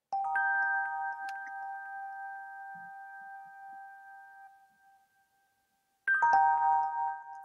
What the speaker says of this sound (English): it's like chimes. Bell chimes, piano bell chimes.